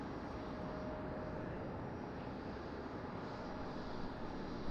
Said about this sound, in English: Frontier. A320. Frontier. Neo arriving